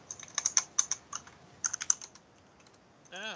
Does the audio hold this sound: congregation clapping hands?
no